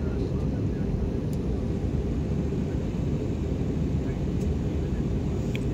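Steady, loud broadband cabin roar inside an airliner coming in to land, dominated by low rumble and holding constant throughout with no distinct events.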